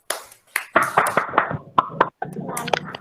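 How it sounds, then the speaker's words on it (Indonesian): A small classroom group claps for a student presentation group: scattered, uneven bursts of hand claps with short pauses between them, fairly close and loud, mixed with a few sharp taps. "Tepuk tangan untuk kelompok 1."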